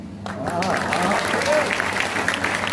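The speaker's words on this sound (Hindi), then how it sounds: "और आप लोगों की तालियों को सुनकर कुछ शेर याद आ गए" Audience applause at a Hindi poetry recital: steady, dense clapping from a crowd, held at an even level throughout, with a voice speaking faintly over it.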